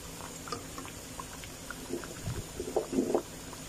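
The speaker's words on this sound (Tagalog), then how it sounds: "Lagyan ng kaunting tubig no, yung sauce niya." A little water poured into sauce in a pot, giving soft gurgling and bubbling close by against a low background hiss, rising slightly toward the end.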